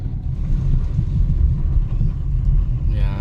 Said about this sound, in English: All I hear is just suspension noise.